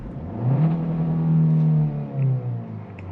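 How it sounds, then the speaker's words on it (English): A 2024 Hyundai Kona N Line engine revs up hard several times in park, rising to a high whine and dropping back, heard close and loud with no talking. "I'll let you guys hear the engine notes if you decide to redline this thing"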